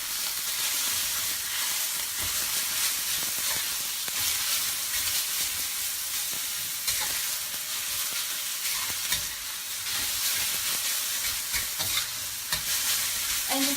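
Garlic chive flowers sautéed with pork and fermented black beans in a hot pot, making a loud, dense, continuous sizzle with frequent scraping and tossing sounds close by, and no voices.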